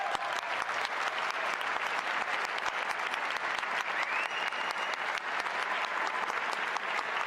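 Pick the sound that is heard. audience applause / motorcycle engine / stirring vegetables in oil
audience applause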